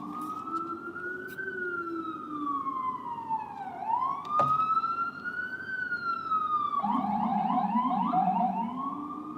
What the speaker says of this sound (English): let this siren pass.